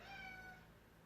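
A house cat gives a single short meow, faint and somewhat distant indoors, fading out within about half a second.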